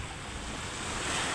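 Sea waves washing onto the beach at Tigbauan, Iloilo, a continuous soft rushing surf with some wind, fairly faint and steady, no voices.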